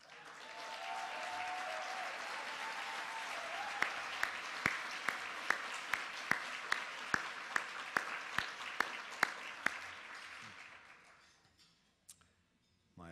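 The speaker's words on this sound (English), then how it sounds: "take another round of applause" A conference keynote audience applauds continuously for about ten seconds, joined by a run of sharp regular ticks, then the clapping fades to near silence.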